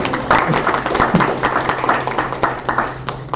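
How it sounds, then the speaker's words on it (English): A room of attendees at a business meeting gives a brief round of applause for incoming committee members, a dense patter of hand claps with a few murmured voices underneath. "So round of applause for the people coming on as well."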